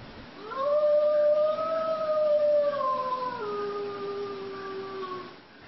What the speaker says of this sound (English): That's a sound you're hearing more of in eastern North Carolina as red wolves are being reintroduced to the wild.